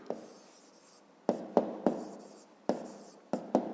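Pen writing line segment names on paper during a fifth-grade math exercise: a series of short scratchy strokes, sparse and irregular, close and clear with no talk.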